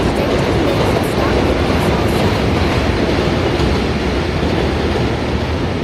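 A train rumbles past on a New York City street, a loud, steady, continuous roar filling the whole stretch with no break.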